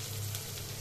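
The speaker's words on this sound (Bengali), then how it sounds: "এবার সেই ভাজা তেলেই আমি পেঁয়াজ কুচি দিচ্ছি।" Chopped onions sizzle in hot oil left over from frying, a steady, soft hiss of frying in a pan that lasts under a second.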